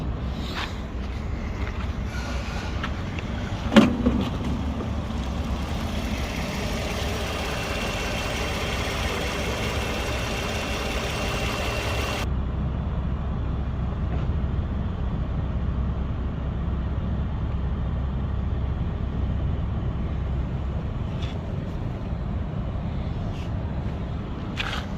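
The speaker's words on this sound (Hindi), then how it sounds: "अभी हमने स्कैनर से जो कंप्रेसर को ऑन किया है, अभी कंप्रेसर का क्लच काम कर रहा है" A 2013 Lexus ES350 engine idles steadily with the A/C compressor clutch engaged. A low, even drone hums close by the whole time, with a single sharp knock near the start.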